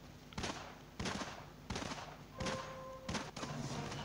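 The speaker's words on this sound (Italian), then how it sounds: "ha sparato di lato e ha sparato a me?" Gunshots in the video game Battlelands: five sharp, evenly spaced shots about two-thirds of a second apart, fairly close over a low steady background.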